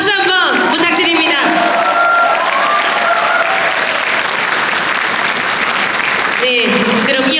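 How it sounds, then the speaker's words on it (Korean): Sustained audience applause for two candidates at a Democratic Party provincial chapter chair election event in South Gyeongnam, loud and dense clapping filling the hall with a voice speaking over it at the start and end. "우리 두 분 후보자들께 다시 한번 뜨거운 박수 한번 부탁드립니다"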